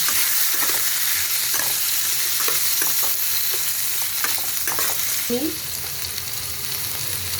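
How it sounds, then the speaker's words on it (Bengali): Kohlrabi and potato, seasoned with salt and turmeric, fry in a pan with a continuous loud sizzle, broken by repeated spatula scrapes and stirring knocks throughout. "এখন আমি দিয়ে দেবো এই ওলকপি আর আলু, দিয়ে একসাথে ভালো করে একটু ভেজে নেড়ে দেবো"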